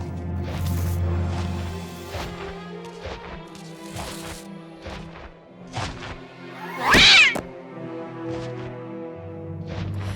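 A cartoon cat meows and caterwauls in an animated fantasy series, its tonal cries mixed with background music and sharp whacks, with one loud harsh yowl standing out midway.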